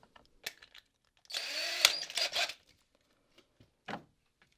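A cordless drill drives screws into a door frame, letting out one close, whirring burst of about a second, with brief handling clicks before and a short second whir after.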